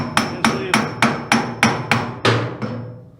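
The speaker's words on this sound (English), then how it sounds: "Use the flat end of my hammer so I don't ruin the shaft here." The flat end of a hammer taps steadily on a brush hog shaft, eight sharp metallic strikes at an even rhythm, each ringing briefly, the last decaying longer.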